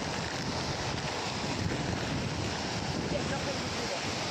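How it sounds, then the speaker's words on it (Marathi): Water roars steadily where a river dam has burst into a waterfall, a dense, continuous rushing close to the microphone, with no break and no clear voices. "हे धबधबा असा नाद उडतोय तुम्ही पाहू शकता"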